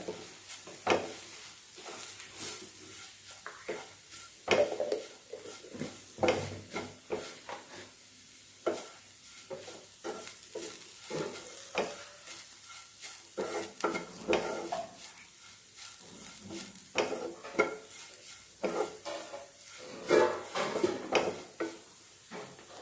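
Sausage roast spices fry in a pan as a spoon stirs repeatedly, scraping and knocking against the metal in uneven bursts over a low, continuous sizzle.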